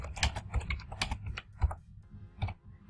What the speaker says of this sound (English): So I'll take the text here and I'll type